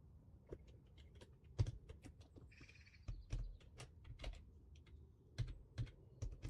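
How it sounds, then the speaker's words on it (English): A mechanical keyboard clacks up close in a quiet room, bursts of crisp individual key clicks at an irregular typing rhythm with short pauses between. "I have a mechanical keyboard, so you can hear all those nice little click clacks."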